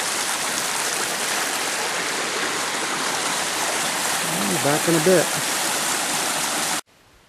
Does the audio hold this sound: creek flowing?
yes